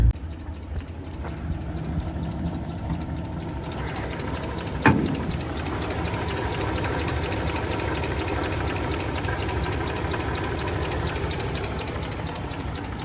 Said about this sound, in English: definitely breaking up a bit right there as it was just idling